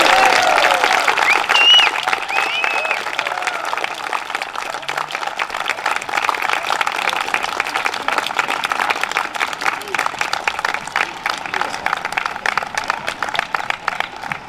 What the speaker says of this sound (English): We have a round of applause for Mark and Mark.